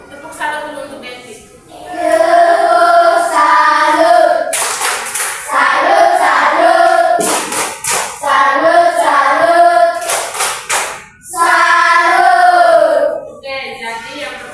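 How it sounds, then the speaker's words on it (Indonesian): A classroom of primary school children performs a rhythmic clapping chant, their sung voices loud and continuous, with sharp group claps landing in bursts every few seconds. "Tepuk salut dulu untuk Betty"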